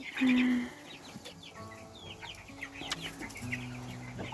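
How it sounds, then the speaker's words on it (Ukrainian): Young chicks cluck and peep softly in short scattered calls, with a louder squawk at the start, close by in a quiet setting. "Ось такі в мене курчата"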